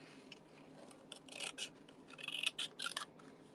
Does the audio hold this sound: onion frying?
no